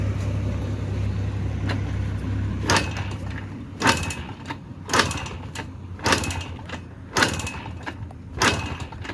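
A TVS XL moped being kick-started without catching, its kick strokes landing as sharp, mechanical clacks about once a second over a low idle-like rumble, never settling into a running engine.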